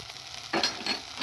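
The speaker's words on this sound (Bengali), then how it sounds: "আদা রসুন দিয়ে খুব ভালো করে একটু ভেজে নেব" Ginger garlic paste hits a hot pan with a sudden sizzle and keeps frying with a steady crackle and stirring scrapes, close and fairly loud, no voices.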